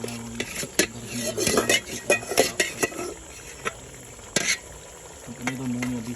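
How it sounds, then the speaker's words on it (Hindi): Marinated chicken and potatoes fry in masala in a pot, with a steady sizzle broken by repeated scrapes and clinks of a stirring utensil against the metal; no voices. "इसमें हम डालेंगे आलू और जो चिकन हमने मैरिनेट किया था, इसको भून लेंगे अच्छी तरह से"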